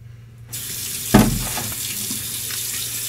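Tap water runs steadily into a bathroom sink as someone rinses a freshly shaved face after a wet shave, with a brief louder splash near the start, then a continuous close rush with no talking.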